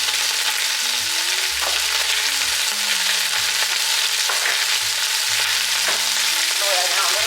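Ground beef fries loudly in a pan with a constant hissing sizzle, while a utensil mashes and scrapes through it in repeated bursts, close by.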